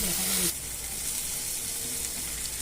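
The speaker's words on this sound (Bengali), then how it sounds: "টমেটোগুলো দিয়ে একটু নাড়াচাড়া করতে হবে যাতে টমেটোটা একটু নরম হয়ে যায়" Chopped tomatoes stirred into frying onions, giving a loud broadband sizzle with a brief louder burst at the start, then a steady hiss, while a voice talks faintly underneath.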